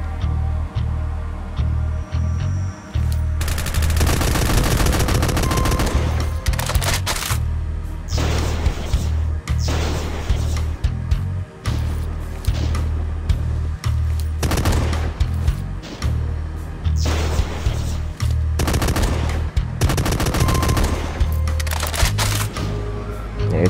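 Gunfire from snipers and other weapons in Doom 2 Master Levels, Map 3 The Catwalk, played in Project Brutality: loud repeated shots and bursts with heavy booming low end, firing in rapid volleys almost nonstop with brief gaps.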